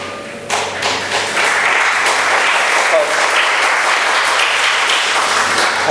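Audience applause at a Hindi stage play, a dense, steady wash of clapping that swells after a brief quieter start and holds loud and close throughout.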